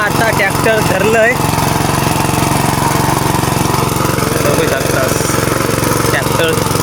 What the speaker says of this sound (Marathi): तर मी आता ट्रॅक्टर धरलंय